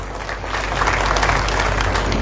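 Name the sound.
applause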